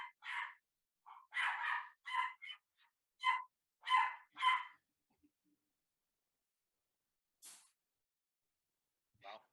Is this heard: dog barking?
yes